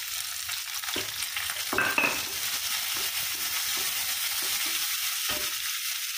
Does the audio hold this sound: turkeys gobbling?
no